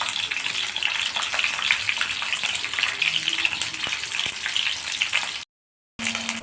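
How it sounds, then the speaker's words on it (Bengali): Okra fries in hot oil in a wok with a loud, continuous sizzling hiss that holds steady, then cuts to silence briefly near the end before resuming. "এবার ভেন্ডিগুলো আমি ভেজে নেব।"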